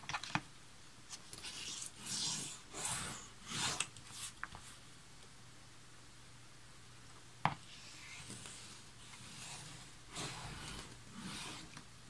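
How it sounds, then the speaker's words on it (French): Paper folds being creased with a ruler and bone folder for a scrapbooking pop-up album, soft repeated swishing strokes and rubs with a few sharp taps, close and quiet. "je prends ma règle et mon plioir et je marque les plis"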